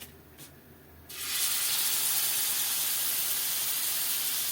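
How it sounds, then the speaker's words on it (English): Ground-beef patty for a cheeseburger dropped into a hot pan: after a quiet second a loud, steady sizzling hiss bursts in and holds close and even to the end. "So let's pick it up and put it on the hot pan."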